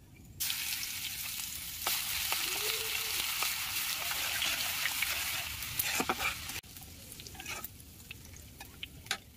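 Garlic and whole cumin seeds fry in hot oil with a loud, continuous sizzle, broken by a few scrapes and clicks of a spatula; the sizzle drops sharply in level partway through and continues more quietly.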